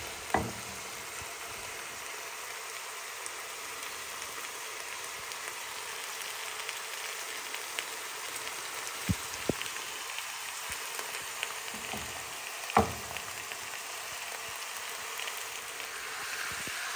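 Onions and meat fry in a pan over a low gas flame for a family dinner, a steady soft sizzle with scattered crackles and a few sharp clicks of stirring, alone and continuous throughout.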